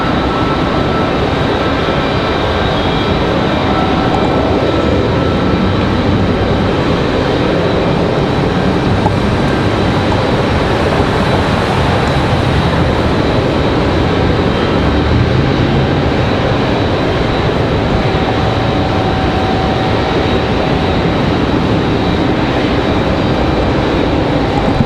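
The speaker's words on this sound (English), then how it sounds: "Looks like Southwest is lining up for 5 right." A Southwest Airlines jet at Raleigh-Durham airport, lining up for runway 5 right, gives a steady, broad engine roar that holds at an even level from start to finish with no voices over it.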